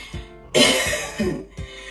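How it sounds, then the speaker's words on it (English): A single close, forceful cough followed by a couple of smaller coughs and throat sounds. "I'm going to cough and I'm going to show you what happens"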